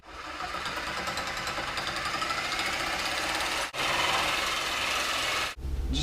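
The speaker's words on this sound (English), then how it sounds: "use a metal cutting blade in my Mastercraft reciprocating saw jig" A Mastercraft reciprocating saw with a metal cutting blade cuts through an engine crankshaft during a tiller engine teardown. The rapid buzzing rasp is loud, close and continuous, with two brief pauses.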